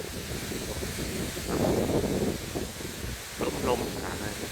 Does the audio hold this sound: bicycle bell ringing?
no